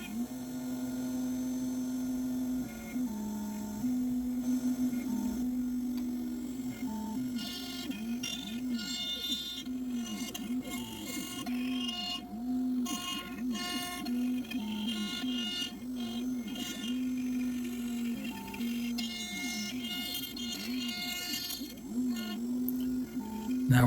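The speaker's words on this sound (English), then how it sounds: "And now this is the final tool path for the project. A 1/8 inch spring pass around the final contour of the back half of the project." A CNC router cutting a 1/8 inch spring pass around the final contour of a two-sided Christmas ornament, a steady mid-level motor whine with rhythmic wavering as the tool follows the path, no talk.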